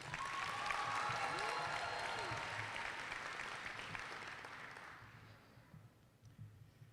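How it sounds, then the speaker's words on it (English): A crowd applauds a dear friend at a university welcoming torchlight ceremony, with broad, steady clapping that swells early and tapers away. A brief voice is heard beneath it before the sound dies down to near quiet. "let's also give another round of applause to our dear friend Melinda"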